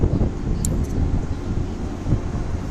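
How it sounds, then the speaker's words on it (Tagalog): Strong wind roars steadily across a microphone on a ship deck at sea, a heavy low rumble with gusty buffeting and a faint engine-like drone beneath. "Lakas ng hangin."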